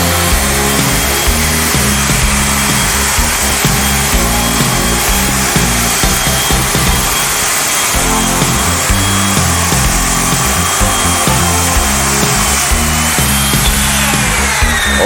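A chainsaw roughing out a piece of wood runs loud and continuous, with a raw buzzing drone and rasping cut noise throughout. It dips briefly midway, then carries on at full power.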